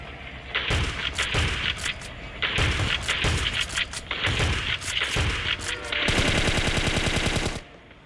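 Rapid automatic gunfire in the mobile shooting game Scarfall crackles in several bursts, each a string of sharp shots, ending in a longer, sustained volley before cutting off.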